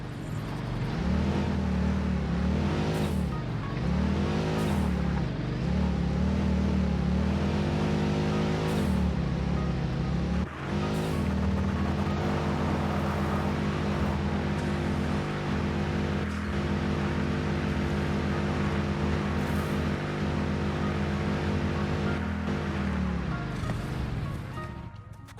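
An engine hums steadily from a vehicle driving in the video game Satisfactory, rising and falling as it accelerates and revs early on, then holding a constant drone throughout.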